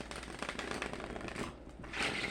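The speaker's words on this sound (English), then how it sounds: "I'm going to shuffle these differently because they're sticking to the table." Tarot cards shuffled on a table, a steady riffling and sliding rustle of cards with soft slaps, close and continuous, the sound rising slightly near the end.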